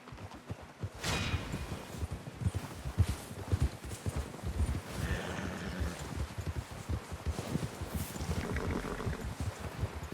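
Several horses trot steadily in the game Red Dead Redemption 2, with a clip-clop of hooves on the ground, rhythmic and overlapping, with some creaking and rustling around them.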